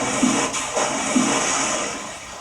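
A small babbling river flowing steadily, a close, continuous wash of water with gentle surging bubbles and no voices.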